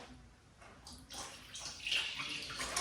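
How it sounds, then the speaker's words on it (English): Water poured into a batch of clay slip for pottery, a soft splashing, rushing pour that builds in strength over a few seconds, close and steady without talk. "now I'm going to add some more water and some more clay"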